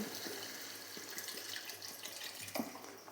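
Water is poured into a pot of braised chicken and potatoes for a Bengali-style chicken curry, making a quiet, steady splashing stream close by with a few brief louder splashes.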